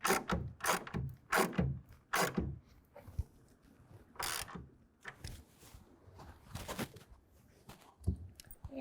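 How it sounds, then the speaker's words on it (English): A half-inch wrench ratchets a clamp down to 10 foot-pounds on a Gator FX hard folding tonneau cover fitted to a 2024 GMC Sierra 1500, giving bursts of close, loud mechanical clicking with short pauses between strokes. "Tighten it down with a 1/2-inch to 10 foot-pounds."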